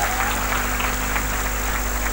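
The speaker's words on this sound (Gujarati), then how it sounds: "એકવાર એ બધા માટે જોરદાર તાળી બનતી હશે" An audience at an engineering college techfest claps in steady, fairly loud applause that holds evenly throughout, over a constant low hum from the hall's sound system.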